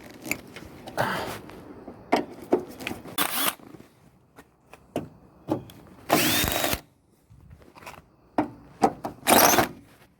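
Power tool, likely an impact driver or drill, breaking bolts loose on a 1996 Land Rover Discovery, sounding in short loud whirring bursts separated by pauses, with scraping and handling noises between them.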